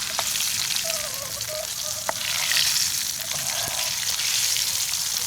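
Chili peppers and tomatoes frying in a pan, a steady loud sizzle with small pops and crackles throughout, and no one speaking.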